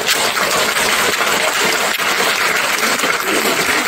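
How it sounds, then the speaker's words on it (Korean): Loud, dense applause from an audience at a Korean apartment reconstruction briefing, a continuous wash of many hands clapping that fills the space without pause. "박수 주세요."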